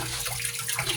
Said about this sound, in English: pour the tea. This is my green tea in this, and it's still pretty hot